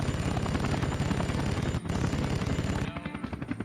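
Enemy gunfire in the Vietnam War video game Air Conflicts: Vietnam, rapid rattling bursts over a constant helicopter rotor thrum, loud and continuous with a short dip midway.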